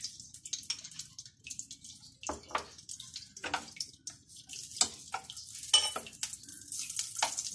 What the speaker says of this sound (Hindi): और जब ये घी मेल्ट हो जाएगा